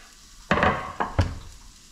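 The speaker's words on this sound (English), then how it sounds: "Oh, we got the sizzle." Chopped onions hit a hot frying pan with a few sharp hissing bursts close by, each fading quickly, while the pan clatters lightly. No one speaks.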